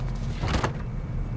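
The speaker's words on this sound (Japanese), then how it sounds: "鍵のかかったドアを体当たりで開けてください" A locked door is rammed open in the video game REsistance: one short, heavy thud near the middle of a brief, loud burst.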